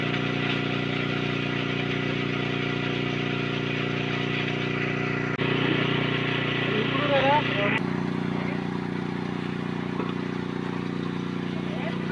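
A motor pump draws water out of a pond during fishing, droning steadily and loudly with a constant hum. Partway through, the tone shifts slightly and a voice talks over it.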